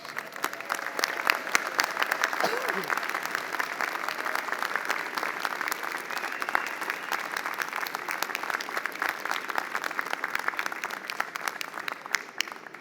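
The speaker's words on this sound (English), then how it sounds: "Let's give them a huge round of applause" An audience at a 2022 university convocation for the Faculty of Arts and Social Sciences gives a long, even round of applause, many hands clapping steadily and fairly distant, with no talk on top.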